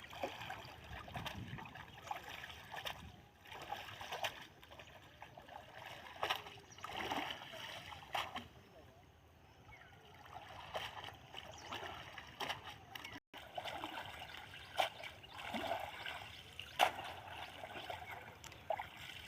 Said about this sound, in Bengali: জালটা ভালো করে ধোয়া হচ্ছে।